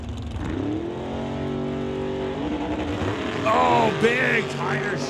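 Drag race launch of the Rad Torque Systems dragster against the TK Performance Mustang, loud engines roaring and revving in a steady harsh drone with rising pitch sweeps, announcer's voice over the noise.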